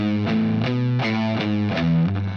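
Heavily distorted electric guitar plays the second half of a riff, a chugging run of low notes and short slides, loud and close with no talking.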